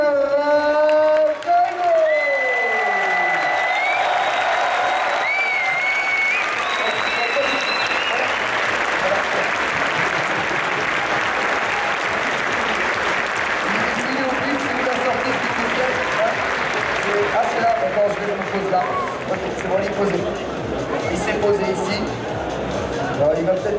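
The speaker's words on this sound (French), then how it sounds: "un tonnerre d'applaudissements pour Umera." A tournament crowd at the Stunfest 2015 Ultra Street Fighter 4 final bursts into sustained applause and cheering for a player, a dense clapping wash lasting the whole stretch while an announcer's voice speaks over the start.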